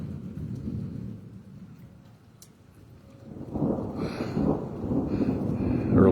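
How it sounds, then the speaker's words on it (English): Deep thunder rumbles from a nearby lightning flash on a stormy February night, a low roll that swells and grows louder toward the end over steady wind and rain noise. "Okay, that's the thunder from the one that flashed over this way"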